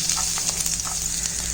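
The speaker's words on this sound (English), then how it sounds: "As the oil is hot, we'll add" Chopped garlic, chilies and ginger sizzling in hot oil for chili chicken gravy, giving a steady, close, bright crackle with faint stirring clicks and no talking.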